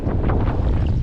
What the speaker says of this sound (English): Very windy, so I do apologize for the wind.